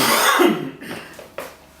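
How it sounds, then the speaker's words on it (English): A single harsh, throaty cough close to the microphone, rough and short, followed by a brief quieter catch of breath, in a kitchen where bee-feeding fondant is being prepared. "Excuse me while I cough up my arm"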